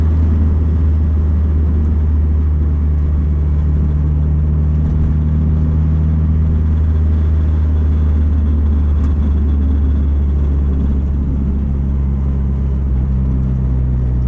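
A Honda Integra with Hasport engine mounts cruises down the road, a steady low engine drone and road rumble heard from inside the car throughout.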